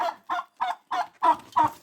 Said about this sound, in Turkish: Hindiye bak hindiye.